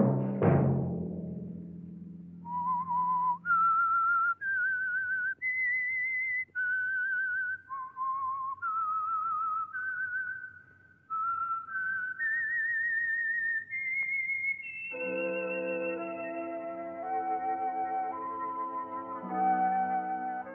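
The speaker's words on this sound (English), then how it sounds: "Let that whistle be your signal for the Signal Oil program, The Whistler." A person whistles the eerie theme of the radio show The Whistler, a slow solo melody of clear sustained notes stepping up and down, ending as an orchestra joins under the tune.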